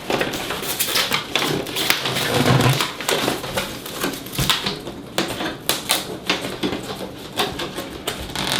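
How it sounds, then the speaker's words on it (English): Tape is pulled and pressed over the inner wall of a DIY fermentation chamber, giving a close series of crackling rips and sticky pops in irregular bursts, with no talking. "we're going to take this inner wall, we're going to pull this tape"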